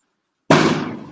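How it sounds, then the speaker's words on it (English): Fireworks go off outside, a single sudden loud bang out of silence that decays into a short rumbling tail. "sorry, there's fireworks. It's not a bomb. It's not a gunshot. It's fireworks."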